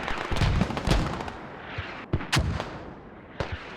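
Mortar and artillery fire in a military video game, several sharp booming blasts and cracks at irregular intervals, some close and loud, others fainter and more distant.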